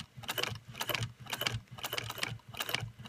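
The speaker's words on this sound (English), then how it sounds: "now we're going to take it to the sewing machine." Leather being stitched on a sewing machine fitted with a servo motor for a crossbody bag, running in short repeated bursts of rapid mechanical stitching with brief pauses between, close and fairly quiet.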